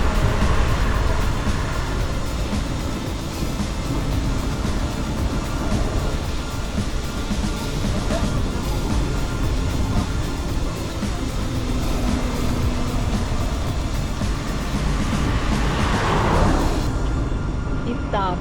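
A car drives along a road toward the village of Dulovo on a sunny morning, a constant broadband rumble of engine and tyres from inside the vehicle, loud and unbroken throughout.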